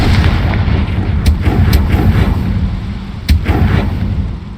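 A Confringo fire spell blasts in Hogwarts Legacy, a loud booming burst followed by rumbling, crackling debris and a few sharp pops, no voices.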